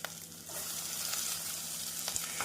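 Chopped tomatoes and onions sautéing in a pan for a brinjal kuzhambu, a steady close sizzle and fry hiss running continuously with a few soft stirring scrapes.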